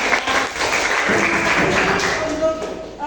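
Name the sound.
applause, clapping hands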